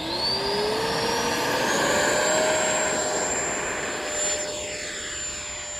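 X-Fly Alpha RC airplane taking off, its small electric motor a rising whine that climbs steadily in pitch and then holds as it moves off, moderately loud and alone.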